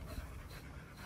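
A female dog on a grooming salon day pants faintly and steadily in quick, breathy bursts close by, with no voices.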